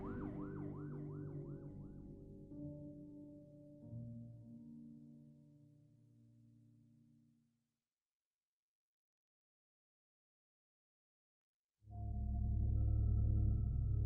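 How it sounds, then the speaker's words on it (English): A police cruiser siren wails in rising and falling sweeps, loud at first and then fading away, followed by several seconds of silence before another loud tonal burst cuts in. "Then the sergeant heard a siren blaring"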